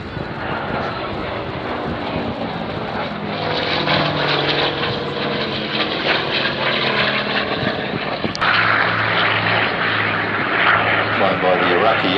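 Propeller warbird flies past at the Flying Legends 2018 airshow, a droning engine roar that swells and holds steady, heard under a commentator's amplified voice.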